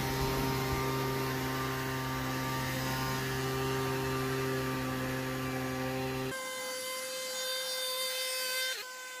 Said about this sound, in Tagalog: i-blower natin para maalis yung mga alikabok, mga buhangin at yung mga dumi